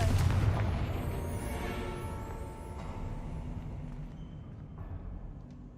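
A Confringo blasting spell explodes in Hogwarts Legacy, opening with a loud broadband boom that fades into a rumbling, crackling tail lasting several seconds, with no talk over it.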